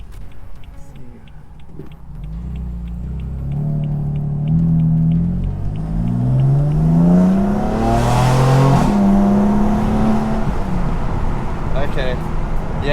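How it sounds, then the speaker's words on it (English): A BMW M4 fitted with a VRSF intake revs and pulls away, its engine rising through several gear steps with a turbo spooling up beneath, loud and close from the cabin, with a brief whoosh near the peak. "you can hear the turbo spool up a lot more now"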